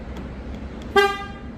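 A Ford Puma's horn gives a single short, loud beep on double locking, ringing out nearby after a quiet moment, with faint ticking in the background.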